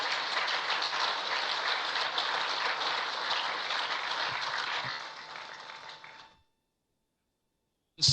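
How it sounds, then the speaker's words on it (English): Sustained audience applause at a political declaration event, a dense steady wash of many hands clapping for about six seconds, then dropping off abruptly into silence before a brief burst at the very end. "Please, let's give her another round of applause."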